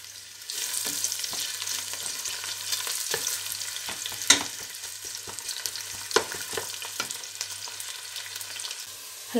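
Two medium onions fry in a pan until golden, giving a steady close sizzle broken by several sharp clacks of stirring against the pan.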